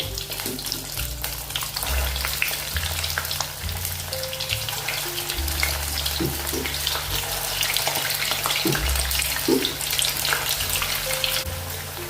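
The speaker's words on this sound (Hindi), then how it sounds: "गरम हो गया तेल, अभी इसमें डालेंगे अपना नाश्ता।" Potato manchurian snack pieces frying in hot oil, a loud, steady, dense sizzle and crackle that continues without a break from start to finish.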